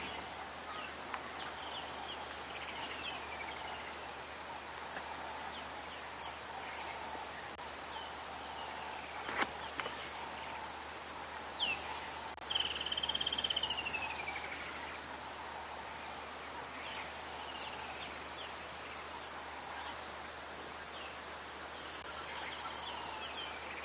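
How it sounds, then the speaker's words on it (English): A dusk chorus on safari at sunset: distant birds call and chirp intermittently over a soft, steady bed of insects and night ambience, with one clearer whistled call rising briefly near the middle. "We're having a dusk chorus all around us."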